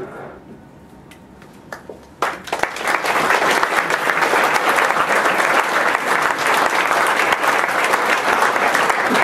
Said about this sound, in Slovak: zatleskajme im ešte raz